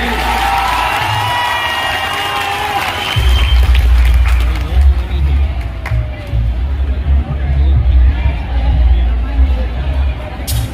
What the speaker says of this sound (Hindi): इनके लिए एक बार जोरदार तरीके से हम लोग ताली बजाएंगे